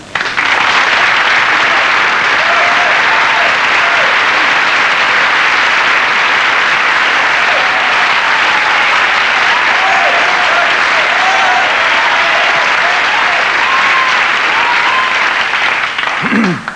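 A 1984 television studio audience claps loudly and steadily for a stand-up comedy act, the applause a dense, sustained roar that holds for the whole stretch before breaking off at the end.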